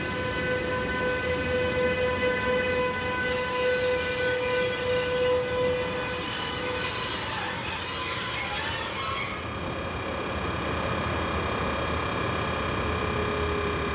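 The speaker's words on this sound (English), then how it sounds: "Sister Loco 145087 is on hire to LTE Netherlands and is seen coming to a stand with train DGS 42675" A freight train hauled by a class 145 electric locomotive comes to a stand, the wheels squealing loudly and steadily with tonal screeches and a rumbling undertone before the squeal eases off.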